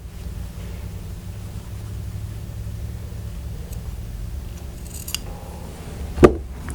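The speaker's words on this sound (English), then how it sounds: "we're going to cut off these little tails" Scissors snip off the small fabric tails of a pinned bias tape strip, a single sharp cut standing out near the end over a low steady background hum.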